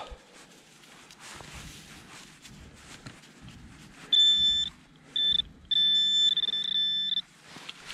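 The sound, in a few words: metal detector beeping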